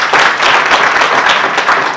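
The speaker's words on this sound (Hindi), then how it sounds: "तालियां हो जाए प्लीज।" An audience claps at a Hindi poetry and ghazal recital: a short, lively burst of many hands with a textured, slightly uneven rhythm, fairly loud and close, with no talking over it.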